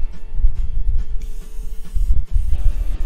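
Uneven bursts of spraying from an aerosol can, close up, with a rough hiss over a low rumble and a brief pause midway.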